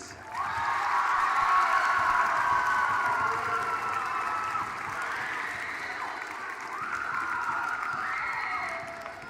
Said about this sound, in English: How about one more round of applause for the class of 2028?